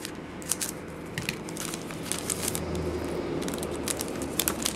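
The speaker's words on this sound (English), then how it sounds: "Scissors." Scissors snip and crinkle through the foil wrapper of a 2009 Topps Allen & Ginter baseball card pack: a run of short, close cutting clicks and rustles over a steady background hiss.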